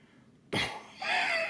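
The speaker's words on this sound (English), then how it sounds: "Occasionally I get this weird cough" A single sharp, close cough bursts out of near silence, followed by a rough, breathy second push that trails off.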